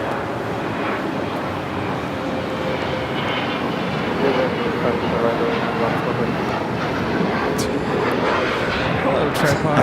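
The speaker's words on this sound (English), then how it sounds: "China Eastern, the 777-300ER arriving there on the north side, now heading to Tom Bradley" A China Eastern Boeing 777-300ER airliner arrives at LAX on the north side, its broad jet roar rumbling steadily at a distance and swelling slightly as it nears.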